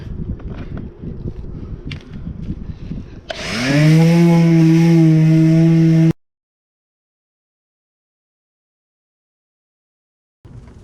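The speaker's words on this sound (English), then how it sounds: "next step is to sand" A power sander works on a rusted, rotten car rocker panel, starting with scattered scraping and knocking before spinning up into a loud, steady whine for a few seconds, then cutting off into silence.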